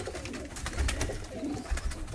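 Kamgar breeder pigeons at a Lahore loft give low, throaty coos, two soft bursts standing out over steady background rustle, with no talking.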